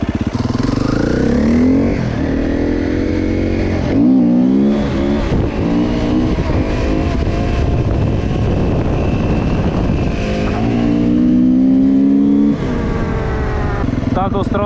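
A KTM EXC 250-F dirt bike engine revs loudly and repeatedly, pitch climbing and dropping through gear changes, close and continuous throughout.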